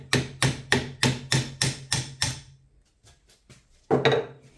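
A rapid run of about eight sharp hammer strikes on metal while removing an axe handle, ringing slightly, then a pause with small clinks and one last loud blow.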